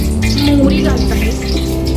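Mustard seeds sizzle and crackle in hot oil for a Kolhapuri bhadang, a steady close frying hiss that runs throughout with a faint voice underneath.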